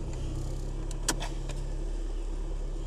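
A Volkswagen Golf 3 engine fitted with a modified Solex 21053-20 carburetor idles at about 1000 rpm, a steady low continuous rumble heard close, with a couple of brief clicks partway through.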